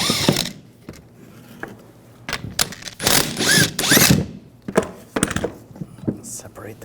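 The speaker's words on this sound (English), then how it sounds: "Take these bolts off. Use a 19mm socket." A ratchet fitted with a 19mm socket loosens the caliper bracket bolts on a GMC Sierra 1500, giving rapid clicking bursts of the pawl with metallic clunks in between, close and loud.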